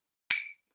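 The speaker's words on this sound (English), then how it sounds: "I don't know how it sounds, but it's just a glass." A single drinking glass struck once at a conference session, giving a bright ringing clink that decays over about a quarter second, with a second strike just beginning at the end.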